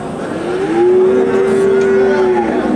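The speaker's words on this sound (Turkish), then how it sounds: "Senenin kurbanlık yerli inekler." A local cow at a livestock market gives one long, loud, close moo that holds steadily for about two seconds, rising at the start and dropping off at the end, with faint market ambience underneath.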